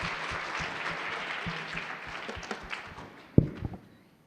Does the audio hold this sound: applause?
yes